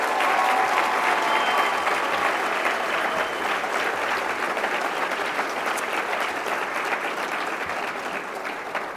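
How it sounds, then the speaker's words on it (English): Sustained, dense applause from a large audience at a USA Gymnastics Hall of Fame ceremony honoring the 2023 class, loud and steady throughout with a faint crowd murmur underneath. "Let's give them a big round of applause."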